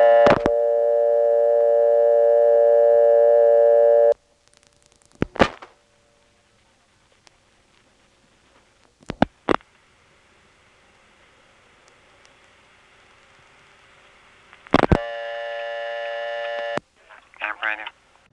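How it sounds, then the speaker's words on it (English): A 1977 step-by-step telephone exchange in Belhaven, North Carolina, heard on tape as 8 and then 1 are dialed: a steady dial tone, sharp relay clicks and pulses, then another tone and a final burst of clicking. "Here's a tape of dialing 8 and then 1."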